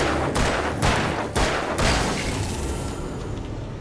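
Gunfire from the Alan Wake video game, a quick series of four heavy, booming shots fired close together, each with a reverberant tail, then fading into a low rumble with no talk.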